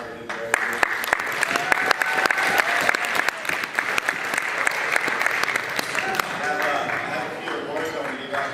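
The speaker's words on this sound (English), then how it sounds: "another round of applause" A banquet audience at a winter sports banquet applauds with sustained, dense clapping from many hands, steady and fairly close, fading slightly toward the end, with some voices mixed in.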